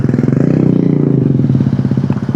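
A motorcycle engine runs steadily up close, with a low throbbing pulse and some rattling clatter throughout.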